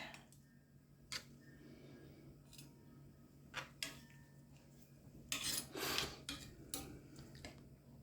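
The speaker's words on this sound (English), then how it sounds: "I'm going to flip them so they get juice on all sides." French onion meatballs turned over in a pan, light clinks and scrapes of a utensil against the pan, scattered and close but fairly quiet.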